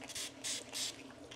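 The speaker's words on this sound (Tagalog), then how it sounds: "spray muna natin yung ngipin" Dental spray misted onto a Maltese dog's teeth before a bath, giving about three short close hissing bursts in a quiet room.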